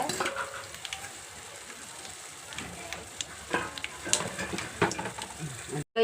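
Cucumber pieces sizzle in hot oil in a pan, a steady soft crackle with occasional louder stirring clatters, moderately close and continuous throughout.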